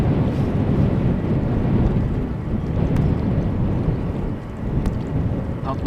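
Steady wind roars and buffets a microphone outdoors at Amsterdam Schiphol Airport during crosswind arrivals on runway 18R, a constant loud broadband rush with gusty swells and no speech.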